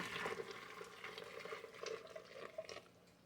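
Heated water is poured into a pressure cooker in a home kitchen, a fairly quiet, continuous splashing and filling sound that rises and falls slightly as the stream flows.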